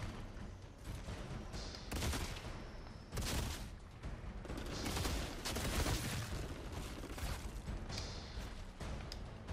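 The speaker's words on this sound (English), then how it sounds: "Just got this burst sniper." Burst sniper rifle fire in the video game Outriders, with dense repeated gunfire bursts and booms layered over constant game noise and effects.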